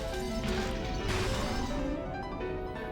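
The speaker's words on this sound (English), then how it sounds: "The mansion was filled with the sounds of knocking, crushing, smashing, and chewing" Loud smashing and crashing from the Umineko When They Cry video game as goats lay siege to a mansion, a dense, continuous barrage of impacts and breakage with no pauses.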